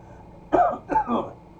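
A voice imitates a cough, two short, rough bursts in quick succession, close and isolated against quiet background.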